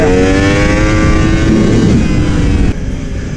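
A narrow, lively racing motorcycle accelerates hard out of the technical double-right Bosset corner, a loud close engine howl climbing steadily in pitch before cutting off abruptly near the end.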